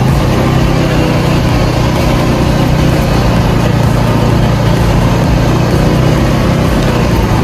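A small motor scooter engine runs close by, a loud, steady buzzing drone with no breaks or revving changes, heard alone without talk.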